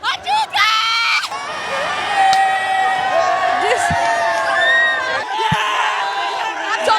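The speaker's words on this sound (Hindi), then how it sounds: "जंतर मंतर पे आप लोगों का भीड़ देखिए, बहुत भयानक भीड़ है।" A large crowd of students at Jantar Mantar roars, whoops and cheers loudly and continuously, with shouting voices layered over the din close by.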